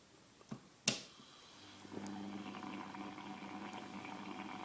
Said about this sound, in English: We're getting some decent bubbles here.